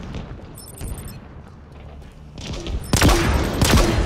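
Rapid bursts of Hydra weapon fire in the video game Halo Infinite, with a soft lull in the middle, then a loud, dense salvo of shots and blasts toward the end, with no talk.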